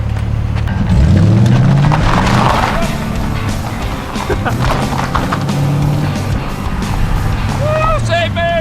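A 2009 Pontiac G8 accelerating hard on a drive, engine rising in pitch with a loud continuous roar and tyre and road noise, with people talking and shouting over it.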